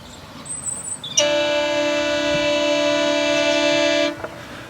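A diesel train sounds its horn for a crossing: one sustained chord-like blast of about three seconds, loud and fairly close, over faint background rumble with no talk.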